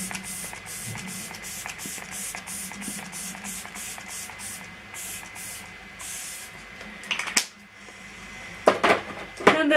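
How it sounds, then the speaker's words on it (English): Glamglow Glowsetter setting spray is pumped onto a face in a quick run of a dozen or so short, crisp spritzes, followed by a few light clatters of items being handled nearby. "I'm just going to take my Glamglow glowsetter and just spray the heck out of my face."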